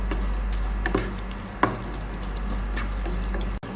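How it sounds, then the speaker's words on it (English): Spice powders for Malabar fish biriyani frying in a pan, with a low steady sizzle over a constant hum and occasional soft clicks of stirring. "So now we will cook this powders well until the raw smell is"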